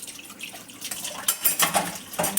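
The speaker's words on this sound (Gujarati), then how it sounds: "આટલા વાસણ છે તો સાફ કરી લઉં" Dishes being washed in a home kitchen sink, with soft clinks of pots and cutlery over a steady hiss of running tap water, fairly quiet and close, with sharper clatters near the end.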